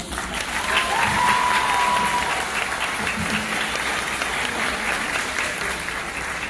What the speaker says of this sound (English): we'll clap for that class